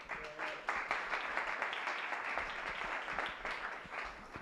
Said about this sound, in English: So big applause for him.